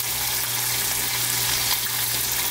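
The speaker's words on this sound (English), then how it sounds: "I'm gonna zoom in on this fish so you can watch it cook here" Brook trout fillet sizzling steadily in a pan during a Maine ice fishing trip, a dense continuous fry with a low hum underneath and no talking.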